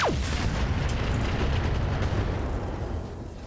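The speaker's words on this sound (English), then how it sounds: "Okay, ammunition explosion." A heavy ammunition explosion in the BattleTech video game sets off a loud, sustained rumbling roar that fills the clip and slowly fades near the end, with no voices.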